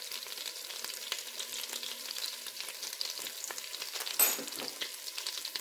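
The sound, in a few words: garlic and thyme frying in unsalted butter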